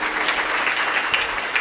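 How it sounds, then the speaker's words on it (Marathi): Audience applause at a kirtan, a devotional singing gathering, with steady, dense clapping from a crowd that continues evenly throughout. "सर्व जे काही कमिटी आहे सर्वांसाठी जोरदार टाळ्या एकदा वाजवायच्यात"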